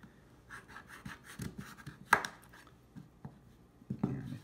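A knife chops through a hard kabocha squash on a cutting board, with several dull, uneven thunks and one sharp crack partway through, close and fairly quiet with no talking.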